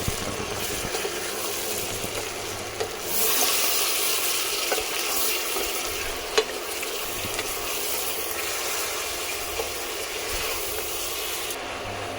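Mutton curry being stirred and fried in a pan, a continuous loud sizzling hiss with occasional scraping knocks from the spoon, swelling louder after a few seconds and holding steady, no talking.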